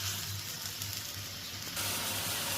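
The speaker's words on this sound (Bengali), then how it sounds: "আগে মশলাটা ভালো করে কষিয়ে নিব" Spice paste frying in hot oil in a pan while cooking pabda fish with tomato, a steady close sizzle and hiss with no talking.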